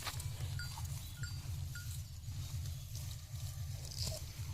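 Large beef cattle stand in a rundown shed, giving a quiet, steady low hum of livestock ambience with a few faint knocks and shuffles.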